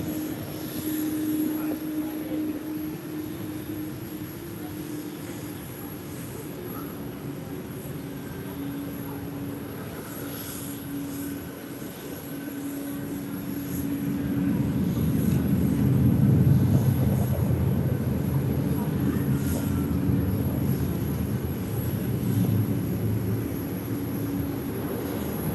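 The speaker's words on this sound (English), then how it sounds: "here comes another plane" A passenger airplane landing at Tokyo Haneda Airport, a distant engine drone that swells into a louder broad roar partway through and then stays steady, heard from the terminal with no talk over it.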